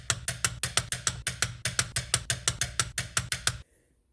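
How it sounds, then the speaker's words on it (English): A ratcheting torque wrench tightens a lower ball joint on a 2006 Honda Civic, giving about twenty crisp, evenly spaced clicks close up in steady rhythm before stopping abruptly. "Grab your torque wrench, set it to 80 foot-pounds"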